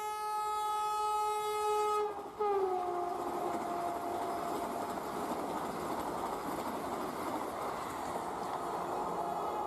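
A Vande Bharat express on the Ranchi to Howrah route sounds a long, loud multi-tone horn for about two seconds, then roars past close by with a steady rushing rumble and fading whistle-like tones.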